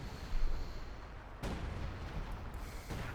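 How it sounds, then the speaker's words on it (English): Artillery strike in Company of Heroes 2: heavy booming impacts, one early and two more spaced out, over a steady rumble of battle noise, with no talking. "we got artillery called in there by Tiramisu"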